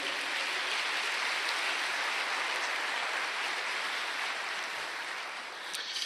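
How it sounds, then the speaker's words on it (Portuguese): An audience at a church sermon applauds in a dense, steady wash of clapping that fills the whole stretch, loud and continuous, with no voices on top. "pode aplaudir."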